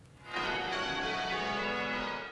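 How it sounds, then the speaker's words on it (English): Church bells peal across Sydney's central business district on Christmas Day, a loud, sustained ringing with rich overtones that swells in and holds steady with no voices. "The peal of bell through Sydney's CBD would call the faithful to prayer on this significant day of the Christian calendar."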